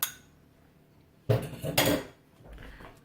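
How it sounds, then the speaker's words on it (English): Whisking an egg for egg wash on a turkey pot pie with puff pastry, fork or whisk clattering against a bowl in a short, loud burst of clinks after a quiet pause, with no talking. "I'm going to beat up an egg there"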